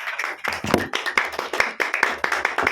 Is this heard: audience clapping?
yes